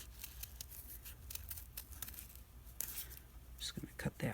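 Scissors cut through a paper stencil for a DIY budget journal, giving quiet, faint crisp snips and rustling paper, with louder cuts near the end under a soft murmuring voice.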